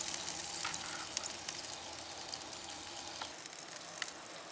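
Chicken wings sizzle under the closed lid of a Pilot Rock park model grill, a soft continuous crackle with faint pops, heard alone and at low volume.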